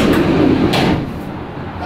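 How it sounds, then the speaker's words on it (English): A door on a van being stripped out during a gutting is pulled open, a brief loud clatter and slide standing out over the background, with a person talking around it. "We'll open this door."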